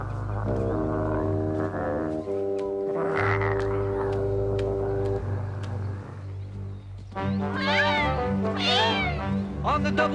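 A cartoon cat meows and caterwauls over a bright orchestral music score, its wavering cries loud and rising near the end.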